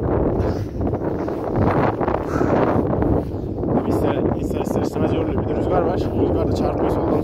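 Strong wind buffets the microphone in a continuous roar during a horseback safari, with gusts rising and falling throughout the clip.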